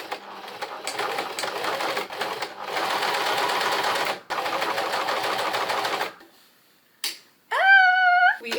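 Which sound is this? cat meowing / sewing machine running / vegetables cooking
sewing machine running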